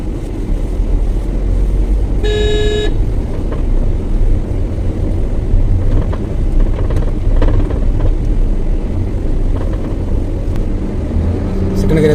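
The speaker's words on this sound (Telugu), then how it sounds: "క్లచ్ విడిచిపెట్టి అలా ఎక్సలేటర్ ఇవ్వండి." A car in a driving lesson pulls away as the clutch is released, its engine rumbling steadily and close throughout, with a short tonal beep early on and voices at times.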